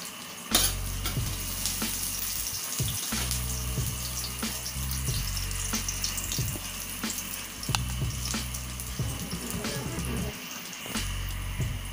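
Garlic sizzles in a hot pan for chicken adobo simmered in coconut milk, a steady crackling fry with scattered pops and faint clinks running throughout at close range.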